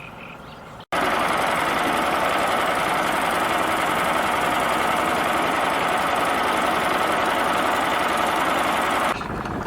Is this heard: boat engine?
yes